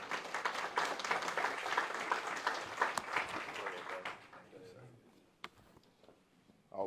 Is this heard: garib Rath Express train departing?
no